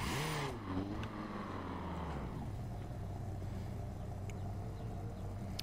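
In a video game, a car engine whines past nearby, its pitch swooping and falling as it goes by, then a low steady rumble carries on underneath.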